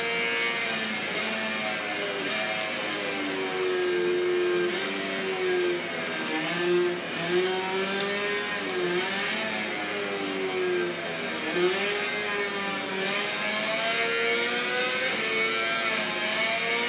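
Racing motorcycle in the video game MotoGP 22, a continuous high engine whine rising and falling in pitch as it repeatedly accelerates and backs off, steady and close with no break.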